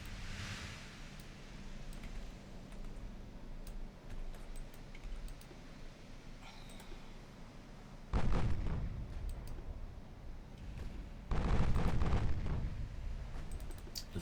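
Naval gunfire in the Ultimate Admiral Dreadnoughts warship game: two heavy broadside booms roughly three seconds apart, each a loud rumbling blast that lingers, over a low hiss of wind and sea.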